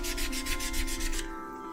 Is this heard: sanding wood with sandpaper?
yes